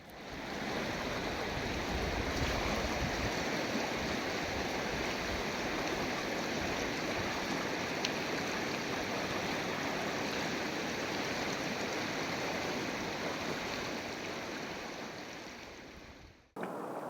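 A mountain stream in the Zanskar region of the Himalayas rushes in a continuous, full-bodied wash of water, loud and unchanging for most of its length before it cuts off abruptly near the end, with no voices.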